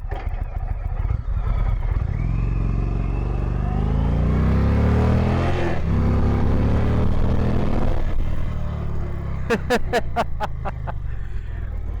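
A 2021 Indian Vintage motorcycle with a Thunderstroke 111 engine pulls hard in sport mode, its loud, close V-twin rumble climbing steadily in pitch through the gears, followed by a few sharp clicks near the end.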